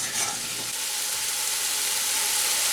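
Ginger and green chilli masala frying in oil over a medium flame, a steady close sizzle with stirring that holds unbroken throughout.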